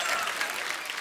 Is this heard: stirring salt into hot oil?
no